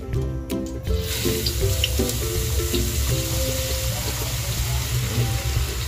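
Garlic dropped into hot cooking oil for bagoong alamang, a steady loud sizzle and bubbling hiss that runs continuously from start to finish, close up with no talking.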